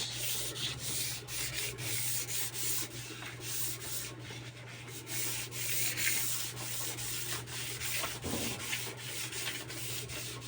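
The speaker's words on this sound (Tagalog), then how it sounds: "Kahit ilamos lang to, matanggal lang yung kintab para pag nagpintura makapit na siya." Sandpaper rubs steadily over a 2-inch PVC pipe to dull its glossy surface, a close, continuous scratchy rasping with rhythmic strokes over a low steady hum.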